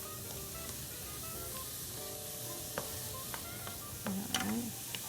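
Chopped vegetables hiss and sizzle in a hot pan while cooking down for a chunky chicken and barley soup, a steady, fairly quiet frying sound with a brief stirring clatter near the end.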